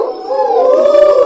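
Children imitate a koel's call in a classroom, a loud sustained high wailing voice that rises and bends, close and alone with no talk.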